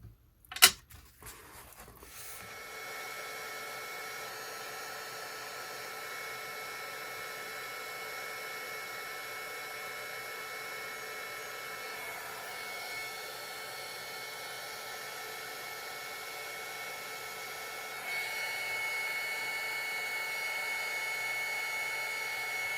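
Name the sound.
heat tool heating craft medium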